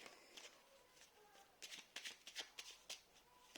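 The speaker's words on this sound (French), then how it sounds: "c'est des toutes petites cartes, donc pour les mélanger, c'est pas génial" Small tarot cards being shuffled by hand, giving quick, irregular papery riffles and taps that grow busier partway through, close and fairly quiet.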